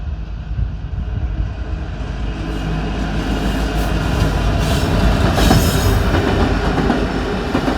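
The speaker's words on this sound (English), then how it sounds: "It's a coal train." A coal train passes close by on the BNSF line at the Ashland, Nebraska wye with a loud, continuous rumble, clattering wheels and some squealing that builds toward the end. No one speaks.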